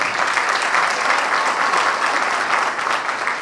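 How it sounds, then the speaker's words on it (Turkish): Steady, dense applause from an audience at an association's fast-breaking iftar dinner, clapping for the management team; continuous and fairly loud with no talk over it. "Bir alkış istiyorum yönetimle."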